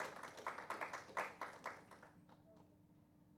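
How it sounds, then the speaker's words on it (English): Scattered applause from a conference audience at a forum session, loose clustered claps that thin out and fade to near silence by the end. "Please give a big hand of applause for Vinay and Harbin."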